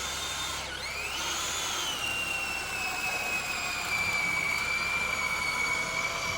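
An electric drill bores into logs at a log home being dismantled, a sustained high whine that drops in pitch as it bites and then holds a steady tone, with rumbling background noise underneath.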